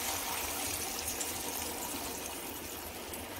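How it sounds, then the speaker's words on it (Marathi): Milk and water in equal parts pour into a pan for a sabudana and moong dal kheer, a soft, steady, continuous liquid rush with no voices. "जे दूध आणि पाणी आपण दोन्ही समप्रमाणात घेतलेलं आहे ते ओतून घ्यायचं आहे"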